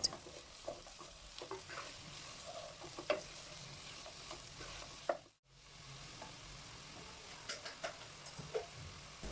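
Four tablespoons of ginger garlic paste frying in a pan of browned base for mutton rogan josh, a steady close sizzle with scraping stirs and clinks throughout and a brief dip partway, no talk.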